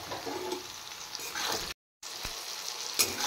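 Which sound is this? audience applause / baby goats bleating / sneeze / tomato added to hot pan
tomato added to hot pan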